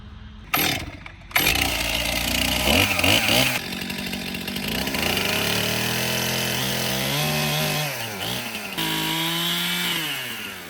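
A chainsaw back-blades knots off a log during log peeling, its engine revving high and dropping in pitch as the top of the bar bites into the wood, loud and close with brief pauses between cuts and no talk.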